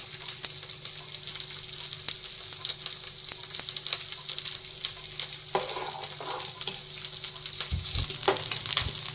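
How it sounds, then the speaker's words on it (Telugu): Pieces of fish shallow-frying in a pan until browned, a steady close sizzle and spit of oil that keeps going, with a few clinks and stirring knocks near the end. "ఇలా బ్రౌన్ కలర్లో వచ్చేంత వరకు వేయించుకోవాలండి చేపల్ని"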